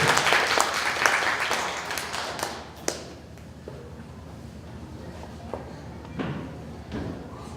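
A burst of clapping from a crowd fades out over a few seconds, followed by quieter room noise and a few taps.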